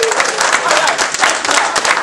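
Continuous clapping from a room full of people, fairly loud and steady with some voices mixed underneath.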